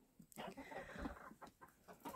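Several hens, some white and some grey, cluck in short, irregular bursts close by, a busy run of soft clucks and chatter with no talking.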